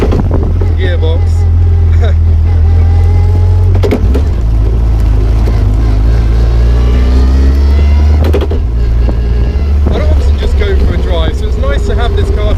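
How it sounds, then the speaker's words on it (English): Caterham 620R driving, a loud low engine and drivetrain drone inside the open car with whining gearbox tones and pitch shifts as it changes speed, while someone talks over it. "It's probably the sound of the gearbox."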